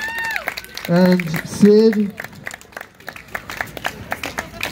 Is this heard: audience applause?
yes